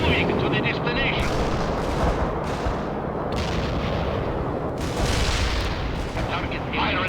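Heavy artillery fire in the video game World in Conflict: booming blasts and rumbling barrages roll continuously and loudly, with radio-style voices talking over the battle.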